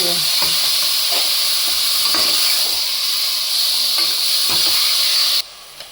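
Mutton chops fry in a pan in a steady, close sizzling hiss while a utensil stirs them with scattered scrapes, before the sizzle cuts off abruptly near the end.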